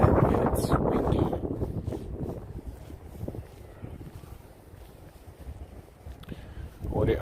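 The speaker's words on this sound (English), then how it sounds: "And it's windy." Gusty wind in Central Park, New York, on a spring evening buffets the microphone with low rumbling bursts, strongest at the start, while some voice or background activity sits underneath.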